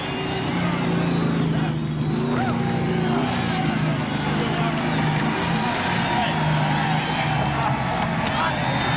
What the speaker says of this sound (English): listen to this crowd react to Bill Elliott.